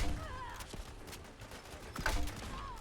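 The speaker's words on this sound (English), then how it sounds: "We're gonna just pop grenades around the corner." Grenade launcher rounds fire in Fallout 4, giving a few dull thumping pops and bursts over background game noise, with a sharp metallic click near the end.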